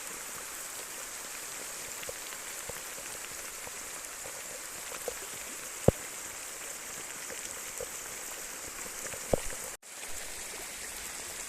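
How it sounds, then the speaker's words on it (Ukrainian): Steady rain pours down with a constant hiss of rushing water, a few sharper drips and splashes standing out near the middle and toward the end. "вода несеться з скаженою скорістю"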